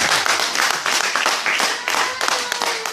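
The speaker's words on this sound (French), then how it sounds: "Est-ce qu'on peut acclamer pour le roi des rois?" A church congregation applauding and cheering, with dense clapping and raised voices sustained throughout at steady, fairly loud volume.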